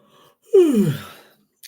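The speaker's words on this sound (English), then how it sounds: "I'm yawning." A single drawn-out yawn during a football match between Sunderland and Ipswich, rising sharply then sliding down in pitch, close and fairly loud, with a faint breath at the end.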